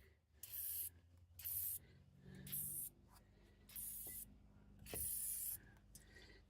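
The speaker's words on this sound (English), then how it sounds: "I'm just going to put on some liquid wrench rust inhibitor." Liquid Wrench rust inhibitor sprayed from an aerosol can onto the brakes of a 2001 Ford F250 Super Duty, five short hissing bursts with pauses between, close and fairly quiet.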